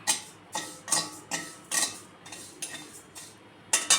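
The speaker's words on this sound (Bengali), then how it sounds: "চাল যেটা আছে সেটাকে আমি এখন দিয়ে দেবো কড়াতে এটা একটু শুকনো খোলায় একটু" Bhog rice is dry-roasted in a wok with no oil, stirred in a run of about eight close, rattling scrape bursts, each rising sharply and then fading, with no one speaking.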